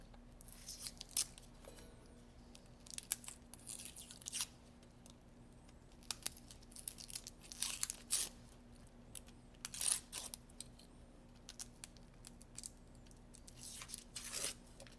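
A fingernail peels the papery skin off an onion in a kitchen, producing soft, close crinkling and tearing crackles in scattered bursts over quiet room tone.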